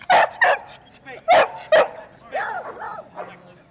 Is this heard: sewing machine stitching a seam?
no